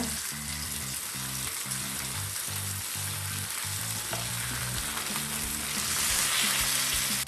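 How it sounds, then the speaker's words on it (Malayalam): Karimeen (pearl spot fish) frying in a pan for a Kerala-style dish, a continuous close sizzle and spatter of hot oil with stirring clatter, growing slightly louder toward the end, no voices. "അപ്പം നമ്മുടെ മീൻ ഇവിടെ 2 സൈഡും ഫ്രൈ ആയിട്ട് വന്നിട്ടുണ്ട്."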